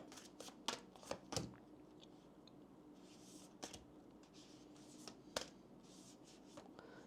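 Oracle and tarot cards are shuffled in a quiet room, giving soft riffling bursts and sharp taps that arrive in irregular clusters, faint and close with no talking.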